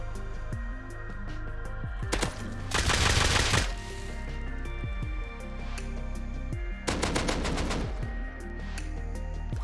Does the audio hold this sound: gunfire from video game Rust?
yes